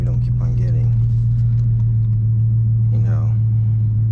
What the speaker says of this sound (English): here's kind of a POV driving of a 2016 Challenger Hellcat